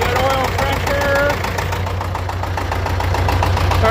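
A David Brown 1200 tractor engine running after starting, a steady close diesel idle with a rhythmic knocking pulse that holds evenly throughout.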